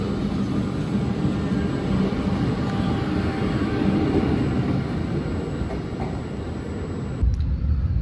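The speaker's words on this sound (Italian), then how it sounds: "E anche il minuetto con cui siamo arrivati parte." An Italian Minuetto regional train engine rumbles steadily with broadband roar as it departs, loud and continuous, then the sound cuts off abruptly near the end.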